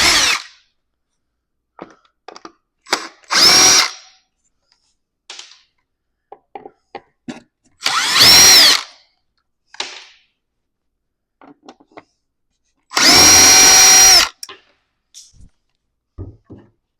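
Power drill-driver backing screws out of an Apple iMac being scrapped, three loud whirring bursts of a second or so each, separated by quiet gaps with small clicks and handling noises.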